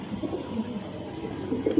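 A male tournament pigeon gives a short series of soft, low coos close by, the gurgling notes rising and falling over a faint background murmur.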